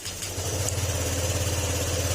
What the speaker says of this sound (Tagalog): ayan wala na yung lagitik dito sa makina